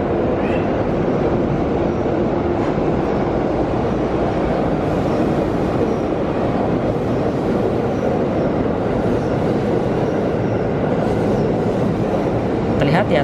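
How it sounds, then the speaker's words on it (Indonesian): A heavy train rumbles steadily across an old railway bridge over the Ciliwung River near Jatinegara, heading toward Jatinegara. The loud, continuous roar holds throughout, with rhythmic wheel clatter from the railcars. "terdengar suara gemuruh kereta api di atas jembatan yang baru"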